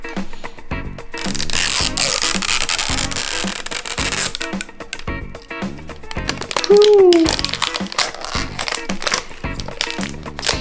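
LOL Surprise toy packaging is torn and crinkled open, loud crumpling of wrapping close by, with a voice and other speech over it.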